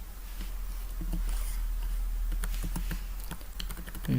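Typing on a computer keyboard, a quick irregular patter of soft key clicks close by over a low steady hum.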